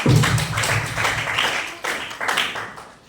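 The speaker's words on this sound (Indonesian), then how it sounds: "Oke, benar ya, tepuk tangan untuk Weni." A chemistry class claps for a student who answered correctly, a short burst of several hands clapping close by, slightly uneven and fading toward the end.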